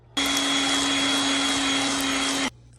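An electric mixer blends zucchini bread batter with a steady, loud motor whir that starts abruptly, holds evenly for about two seconds, then cuts off, with no talking.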